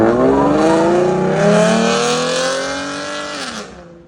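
A 2014 Mustang with a 3.7L V6 and Roush exhaust revs loud and close. Its raspy engine note holds steady, then falls away as the revs drop near the end.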